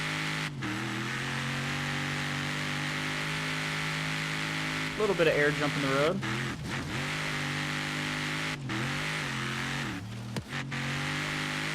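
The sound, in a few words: Ford Raptor truck engine revving in racing video game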